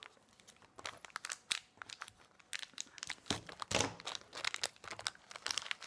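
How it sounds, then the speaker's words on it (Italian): A blind bag packet of collectible figures is torn open, giving a run of close crinkling, crumpling and tearing plastic bursts with no talking. "Adesso apriamo appunto l'altra bustina."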